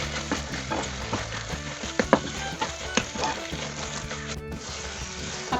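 Pathrode pieces stirred into a sizzling masala gravy in a pan, with steady frying crackle and repeated scraping, clattering spoon strokes close up, continuous for several seconds.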